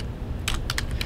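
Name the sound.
typing a web address on a computer keyboard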